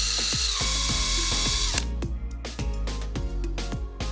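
A power drill bores holes through a metal dash rail for a Toyota Tacoma at a workbench: a steady high whine for nearly two seconds, then a series of short, close ratcheting clicks and bursts.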